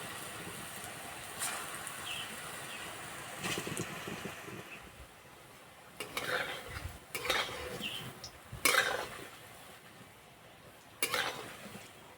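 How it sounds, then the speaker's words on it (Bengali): Potato fritters frying in hot oil, a quiet low bubbling sizzle punctuated by several sharp utensil clinks and scrapes against the pan, close and without speech. "তেল গরম হয়ে গেছে এবার আলুর বড়াগুলো ভেজে নেবো"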